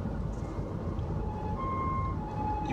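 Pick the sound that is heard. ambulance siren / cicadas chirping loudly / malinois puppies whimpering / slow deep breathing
ambulance siren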